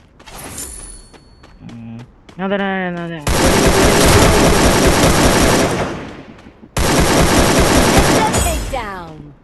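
Rapid bursts of AK-47 automatic gunfire in the battle-royale video game Free Fire, two long loud sustained volleys after brief talk and short game sounds, with a fading electronic tail.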